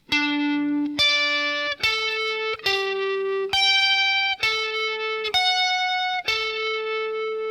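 Electric guitar plays a song intro slowly with effects, distinct picked notes roughly once a second, each ringing and sustaining into the next in a bright, loud line with no talking.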